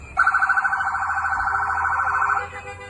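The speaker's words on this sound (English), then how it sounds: "federal vehicles start moving toward the maroon SUV, with sirens and lights blaring" A federal vehicle's siren wails in a steady, fast warbling pattern for about two seconds, loud and close, over low traffic rumble before cutting off.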